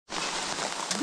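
Rain falls in a steady, even hiss that starts abruptly and continues at constant loudness, close and filling the space with no pauses.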